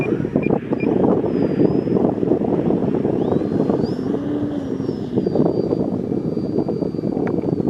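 Small electric motor of an RC airplane taking off, whining at high pitch over strong wind buffeting the microphone, steady and close.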